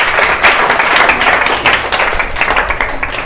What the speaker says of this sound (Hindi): ताली बजाइए इनके लिए, जोरदार ताली बजाइए।